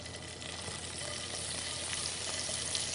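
Butter melting in a hot pan while making crepes Suzette, giving a steady, close sizzle and crackle that holds evenly throughout with no talking.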